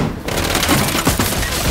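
Uzi gunfire in the TV show The Penguin, a short loud burst of rapid automatic shots filling the whole moment with no talking.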